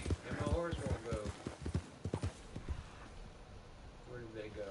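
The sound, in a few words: horse hooves and neighing in Red Dead Redemption 2 video game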